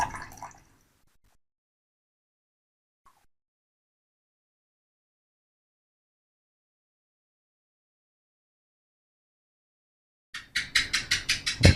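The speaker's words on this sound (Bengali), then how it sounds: "আমি হোয়াইট ভিনেগারটা নেব 100 গ্রাম।" White vinegar, about 100 grams, glugs out of a bottle into a container in a short burst of rhythmic pulses near the end, after a long stretch of near silence.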